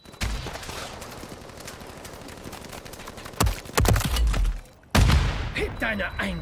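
Gunfire in Call of Duty MW3 Zombies as a helicopter is shot down, dense bursts of shots and heavy impacts over constant game noise, with a loud burst near the end.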